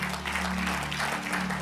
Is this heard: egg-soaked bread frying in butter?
no